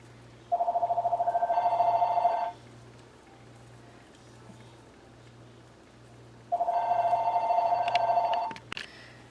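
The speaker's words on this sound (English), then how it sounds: "My phone rang and I had to answer it." A telephone rings in two long electronic trilling bursts separated by a pause, moderately loud and alone over a faint steady hum.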